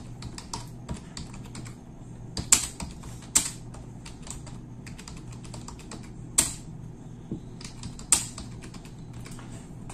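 Fingers tap steadily on a computer keyboard while writing a course description for online teaching, a close run of quick clicky keystrokes with occasional louder presses, like the space bar, over a faint low hum.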